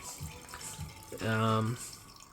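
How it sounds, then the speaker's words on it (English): Water runs from a tap into a container, a brief burst of gurgling flow in the middle of the clip, with faint background noise and handling sounds before it. "we need to fill this up with water"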